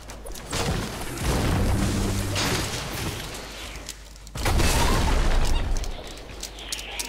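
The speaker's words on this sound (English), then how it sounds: "it's grenades coming in" Grenades explode in Fortnite in two long, loud, rumbling blasts, each a few seconds long and heavy with low boom and crackle, with a brief lull between them.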